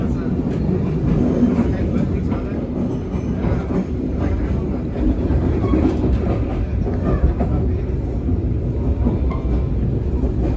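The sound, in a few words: Sri Tanjung economy passenger train running on rails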